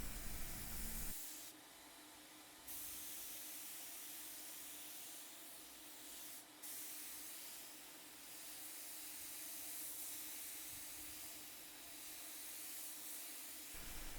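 A paint turbine sprayer hisses continuously and loudly, a steady broadband spray with brief changes in intensity as it runs.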